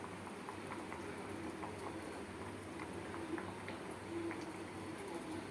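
Herbal cough decoction with cinnamon and cloves boiling down in a pot, a faint steady bubbling and patter close by, with no talk.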